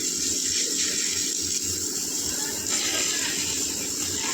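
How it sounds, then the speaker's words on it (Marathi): A hose pipe sprays water onto plants on a balcony, a steady, close rush of hissing water that runs without a break. "बघा ऋतू भाऊ झाडाला पाणी टाकत आहे."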